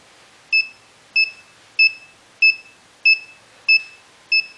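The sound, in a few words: Arduino buzzer beeping alternately with blinking LEDs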